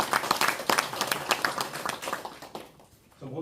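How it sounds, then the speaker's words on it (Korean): A crowd at a policy debate forum applauds with steady clapping for a few seconds; the clapping fades out and a voice starts speaking near the end. "큰 박수 한번 부탁드리겠습니다"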